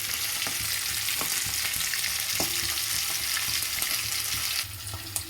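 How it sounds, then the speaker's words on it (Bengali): An egg frying with whole cumin seeds in a pan, a close, steady crackling sizzle with occasional scraping as it is turned over, easing slightly at the very end. "এরকম ওলট পালট করে ডিমটাকে খুব সুন্দর করে ভেজে নিতে হবে"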